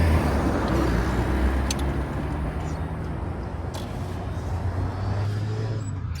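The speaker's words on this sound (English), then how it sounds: "the sweet, sweet power of a 16 valve, normally aspirated convertible" A Saab 900 16-valve normally aspirated convertible drives along, its engine a steady low rumble heard from inside the car with road noise, continuing evenly throughout.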